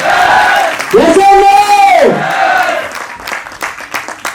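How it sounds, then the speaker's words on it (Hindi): An audience at a company motivational speech erupts, first with a loud sustained group cheer and whoop, then breaks into scattered, strong clapping that carries on near the end. "तो एक बार जोरदार तालियां उस खुशखबरी को सुनने के लिए।"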